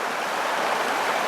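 A low, drought-shrunken backcountry river flows steadily, producing a broad, continuous rushing hiss of water that stays even and unbroken throughout, with no voices.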